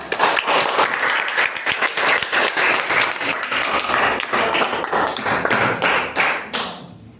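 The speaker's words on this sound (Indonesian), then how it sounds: "Beri tepuk tangan buat Gina" A classroom of children claps for a classmate named Gina, lively uneven applause with sharp individual hand slaps and light thumps, sustained for about seven seconds before fading out.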